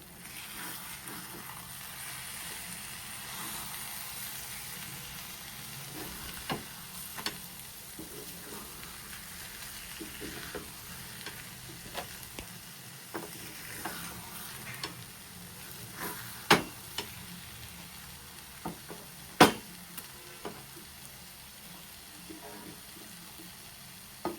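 Taro leaf curry frying in a pan while it is turned over, with a steady low sizzle and a few sharp utensil clinks against the pan, moderately quiet.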